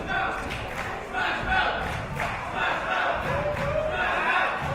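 Crowd at an International Pro Wrestling show roaring and chanting in support of wrestler Chris Ridgway, a steady, pulsing wall of voices with rhythmic surges throughout, loud and close, with commentators talking over it.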